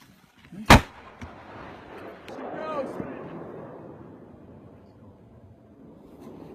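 A large firework shell fires from a buried mortar with a single sharp, loud boom, followed by a fading rumble and a rising whoosh as it climbs away.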